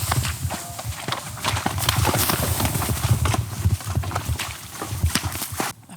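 Horse hooves sloshing and splashing through a Mongolian swamp, a dense, irregular stream of wet thuds and water churning up close, steady and fairly loud throughout with no talk.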